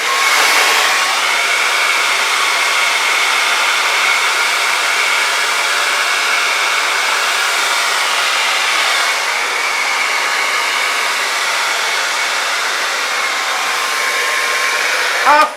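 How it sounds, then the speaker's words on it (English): A blow dryer runs at full power for a long stretch, a loud, steady rushing whoosh that stays constant throughout before cutting off at the end. "Here's my blow dryer."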